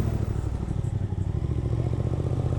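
Suzuki GSX 8S motorcycle ridden on the winding Cilaos road of 400 bends, a loud close engine with a fast even pulsing throb, held steady for a couple of seconds with wind rush.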